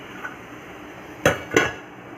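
A lid is set on a cooking pot of chicken stew with two sharp metallic clanks in quick succession, close and clear over faint kitchen background.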